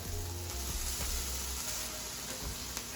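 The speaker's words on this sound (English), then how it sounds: "Got the sizzle effect going here" Steady sizzle of chicken frying in a pan for a stir fry, with light crackling and a low hum underneath, no voices.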